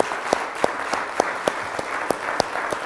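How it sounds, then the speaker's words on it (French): A church congregation claps in unison to praise the Lord, giving sharp, evenly spaced beats about three per second over a low murmur of crowd noise. "Est-ce qu'on peut applaudir le Seigneur?"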